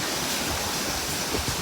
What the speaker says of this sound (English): the water getting swept all the way in here like that